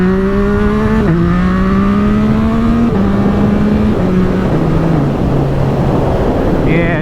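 A motor vehicle engine revs hard during a wheelie, loud and close, its pitch stepping through several gear changes that climb and then fall, with a strong steady roar throughout.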